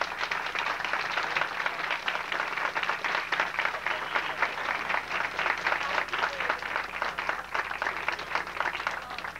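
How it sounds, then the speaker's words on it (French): An audience applauds steadily for several seconds, a dense, even wash of many hands clapping at moderate volume without talk over it. "Oui, vous pouvez applaudir sûrement."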